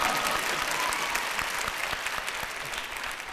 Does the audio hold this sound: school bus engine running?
no